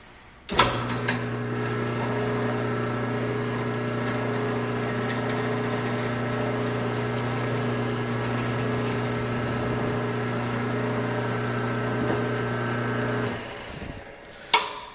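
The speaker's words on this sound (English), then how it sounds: "While drilling, it's very important that the bit comes down and goes through the center of the hole" A small drill boring a hole through a printed circuit board whirs steadily at a constant pitch for many seconds, starting and stopping with brief clicks.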